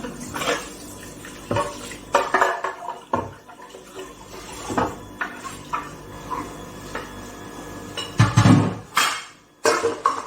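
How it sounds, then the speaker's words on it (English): A blender jar being rinsed in a kitchen while pounded yam is made, with clinking and knocking against dishes and pots, scattered clatters and a louder sloshing, scraping burst near the end. "So I have to rinse my blender at once"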